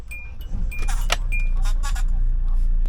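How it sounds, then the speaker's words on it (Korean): A SsangYong Korando Sports four-wheel-drive diesel pickup engine cranks and catches, settling into a steady low idle, close by with a faint clatter and brief clicks at the start, no talk. "시동 걸었을 때 오히려 현대기아의 디젤차들보다 시끄럽지 않고 조용한 느낌이에요"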